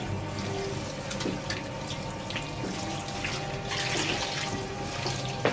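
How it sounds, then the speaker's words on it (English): Tap water runs steadily while conditioner is rinsed out of a curly wig, a continuous splashing flow over a sink with small shifts in the spatter and no talking. "Okay, so I'm trying to wash, rinse the conditioner and everything."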